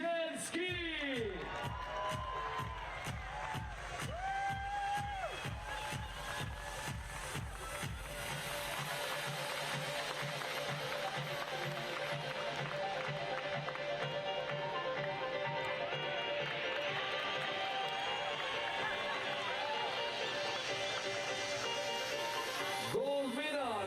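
A crowd at the Chamonix IFSC Climbing World Cup speed finals applauds and cheers a Polish silver medalist. Someone speaks over a loudspeaker at first, then steady applause and whoops fill the rest.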